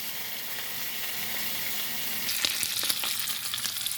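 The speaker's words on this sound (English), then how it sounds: "Bacon in the pan." Bacon frying in a pan, a steady broadband sizzle that grows busier and crackles with sharp pops in the second half, fairly close and alone with no talk.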